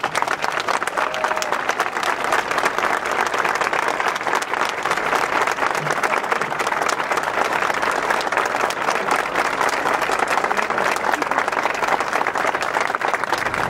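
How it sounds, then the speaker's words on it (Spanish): Mourners at Daniel Zamudio's funeral give a long, loud, steady applause, a dense crowd clapping continuously for over ten seconds with no break. "darle un aplauso a Daniel y a su familia"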